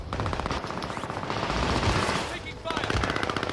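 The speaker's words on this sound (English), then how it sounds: "They're shooting me out of the respawn." Rapid automatic gunfire bursts in the Warzone video game, dense and continuous with a short lull before firing resumes, with voices faintly mixed in.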